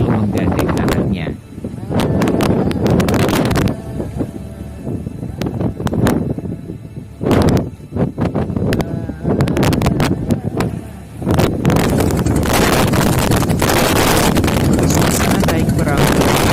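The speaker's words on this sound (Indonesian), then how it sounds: "Suasana naik perahu dengan pasangan gelombang membuat hati berdebar tinggi yang menyemangati" A boat rides over sea waves off Morosari, Bedono, Demak in Central Java, giving a steady loud rumble of engine and water with heavy wind buffeting and gusts on the microphone, while voices talk beneath.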